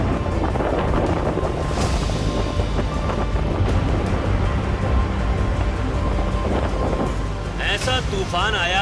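A violent storm roars with constant wind and rain, heavy rumbling thunder beneath, and a brief burst of high chirping sounds near the end.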